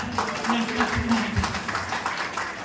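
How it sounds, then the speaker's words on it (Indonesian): Villagers at a neighbourhood halal bihalal gathering and RT chief election applaud Pak Arjana, a light, steady patter of clapping heard beneath a voice talking over a PA system with a low hum. "Tepuk tangan untuk Pak Arjana"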